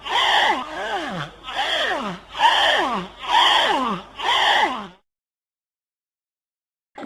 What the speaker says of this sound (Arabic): فقمة.